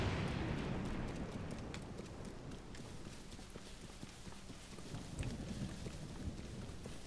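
Rain and thunder from a thunderstorm in the game Zelda: Tears of the Kingdom, a steady rushing downpour with low rumbling throughout and no voices.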